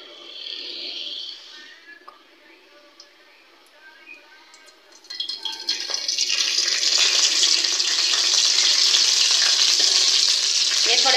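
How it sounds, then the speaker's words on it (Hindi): Whole spices, bay leaves, star anise, dried coriander and cumin, hitting hot ghee: a quiet stretch of small clinks and rustles, then a loud, sustained sizzle that swells and holds close up until the end. "गरम गरम घी के अंदर इनको डाल लेना है"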